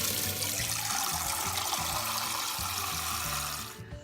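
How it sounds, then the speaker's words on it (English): Water pours steadily into a measuring cup from a tap, giving a loud, continuous rushing splash with a low gurgle underneath that trails off near the end. "you're going to measure out 8 cups of water in your measuring cup"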